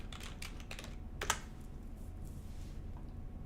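A computer keyboard being typed on, a quick, quiet run of key clicks with one sharper keystroke partway through, then softer sparse taps.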